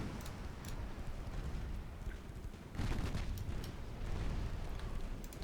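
A video game naval barrage of 6-inch shells, rapid, overlapping rumbling booms forming a dense, continuous fusillade.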